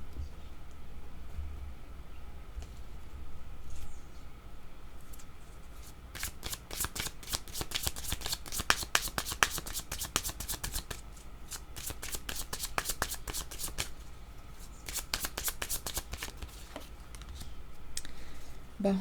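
A deck of cards is shuffled for a tarot-style reading, producing rapid, crisp riffling bursts in several repeated runs, close and fairly quiet, with no talk.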